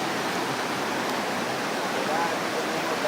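The Napo River flows through the Amazon rainforest as a broad, steady rushing roar, constant and fairly loud, with no voices over it.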